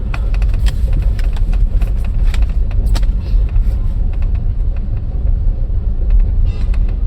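A car moves forward slowly during a driving lesson, giving a steady low engine rumble that continues evenly throughout, close and fairly loud, with no talk.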